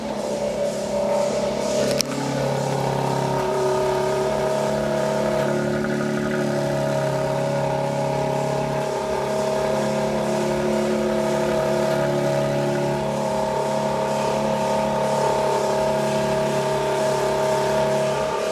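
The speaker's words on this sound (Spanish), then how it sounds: "Ahí se escucha lo que es el sistema de tubería con válvula." A 2021 BMW 4 Series at its launch event runs through a valved exhaust, giving a steady, loud engine drone with a sharp blip near the start and rising and falling revs throughout.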